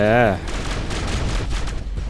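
Robot weapons firing in the mech battle game War Robots, a sustained loud barrage of rapid shots and booms, opening with a brief tonal warble before the gunfire takes over.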